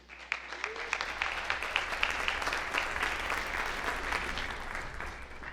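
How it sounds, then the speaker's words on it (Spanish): An audience claps steadily for several seconds at an international conference symposium, a dense wash of hand claps from a sizeable crowd, with no voices over it. "Recibámosla con un caluroso aplauso."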